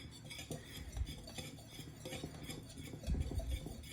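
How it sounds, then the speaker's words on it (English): A spoon stirs almond flour, baking powder, salt and pepper in a bowl, giving soft, irregular scraping and light clinks close by, with no talk. "I'm going to stir that together."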